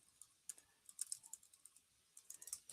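Typing on a computer keyboard while coding, heard as faint, irregular clusters of light key clicks with short pauses, ending in a louder burst, with no talk.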